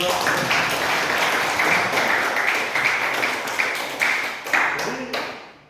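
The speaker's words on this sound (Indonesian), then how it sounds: "Ya, tepuk tangan." A room full of people claps steadily for several seconds, the applause tapering off near the end, with some voices mixed in.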